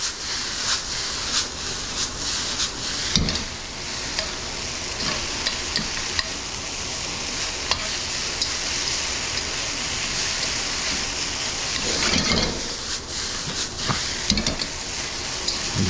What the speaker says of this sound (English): So we're just going to mix this together until the noodles look relatively homogeneous